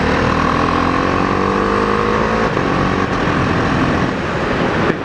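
A Husqvarna Vitpilen 701 motorcycle engine pulls hard in third gear, its loud, rising drone close to the rider with wind noise rushing over it.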